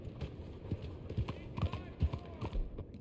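Horse hooves in Red Dead Redemption 2, a close, steady clip-clop of hoofbeats on hard ground, faint and even throughout.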